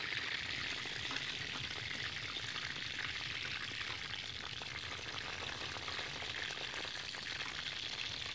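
Bird meat fries in hot oil in a pan, giving a steady, close crackling sizzle that holds evenly from start to finish with no talking.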